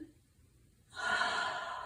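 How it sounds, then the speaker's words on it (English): A single deep breath drawn in during a standing hip-stretching exercise, feet set a little wider than hip width. It follows a near-silent pause, then rises as a close, steady airy inhale lasting about a second. "Breathing all the way in"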